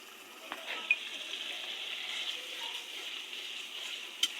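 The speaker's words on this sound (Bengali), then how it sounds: "মশলাটা একটু কষাই নিলাম" Spice paste frying in a pan gives a faint, even hiss and crackle that runs steadily with no voices.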